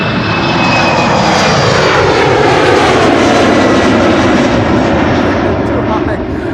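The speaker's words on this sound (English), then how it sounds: "Another Embraer 190 is passing by." An Embraer 190 airliner passes at Schiphol Airport, a loud steady jet roar close by for several seconds, with talk in the background.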